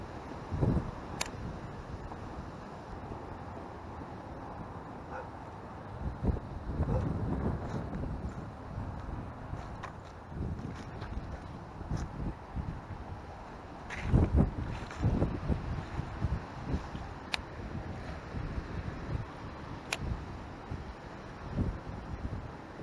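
Gusty wind buffets a small fishing boat on a lake on a windy fall day, rising and falling in uneven bursts with occasional soft knocks close to the microphone.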